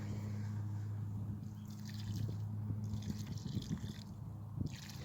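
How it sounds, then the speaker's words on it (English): Water trickles and pours onto the root zone of a freshly planted tree seedling, a faint continuous dribble outdoors with low background hum and no talking. "At the end of the planting process, and we would again add a little bit more water."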